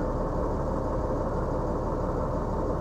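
A forestry bucket truck's engine idles down after coming off cruise control, a steady low rumbling drone that stays even and close throughout, with no voices.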